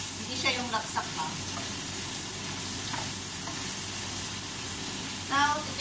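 Bitter gourd (ampalaya) frying over high heat, a steady loud sizzle and hiss with occasional stirring scrapes, close up throughout.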